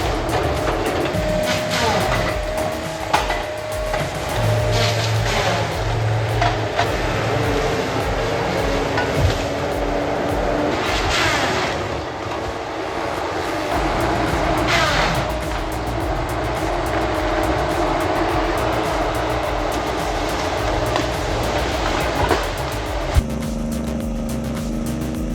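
A loaded Kenworth T659 truck approaches at a wood chipping and shredding site, its steady engine drone rumbling continuously with shifting revs and machinery noise mixed in.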